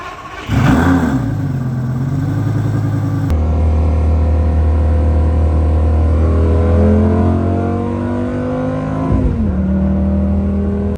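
A 2006 Lamborghini Gallardo, a V10 sports car, revs and pulls away, its engine rising in pitch through several gear changes, loud and close throughout with no talking.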